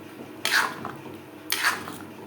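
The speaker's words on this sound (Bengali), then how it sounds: "এইভাবে নাড়াচাড়া করে দেবেন" A spoon stirs a pot of dalia khichuri cooked with moong dal after water has been added, giving two distinct scraping swipes about a second apart, close and moderately loud, with no talking.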